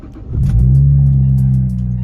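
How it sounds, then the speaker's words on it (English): A friend's Chevrolet Camaro fires up from cold with a loud, close engine catch that swells into a steady, rumbling revved idle, no voices over it. "Cold start."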